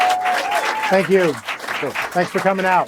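Audience applause welcoming the next speaker at a talk, a broad wash of clapping running beneath a voice as he thanks the crowd.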